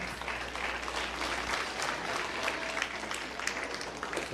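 Stock show audience clapping for young exhibitors after a class, a sustained patter of applause filling the hall, moderately loud with a few louder claps standing out.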